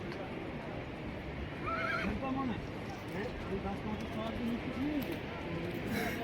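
Horses whinny on a Himalayan mountain pilgrimage trail to Amarnath in Kashmir, with a few clear neighs rising over a steady murmur of voices and outdoor crowd noise.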